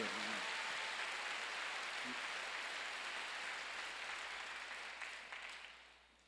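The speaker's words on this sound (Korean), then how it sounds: "박수 좀 세게 치는 거예요 정말" Congregation applauding during a church sermon, a dense, steady wash of clapping that holds for several seconds before fading out at the end, with no voices over it.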